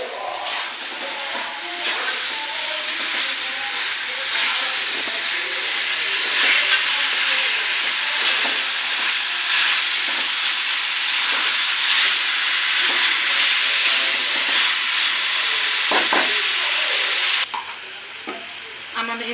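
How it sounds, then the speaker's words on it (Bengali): Meat for a roast is stir-braised on low heat, giving a loud, continuous sizzle and hiss with constant stirring scrapes, ending in a short louder clatter before a brief drop. "এভাবে ভালোভাবে মিশিয়ে আস্তে জালে এটাকে আমি কিছুক্ষণ কষিয়ে নিব।"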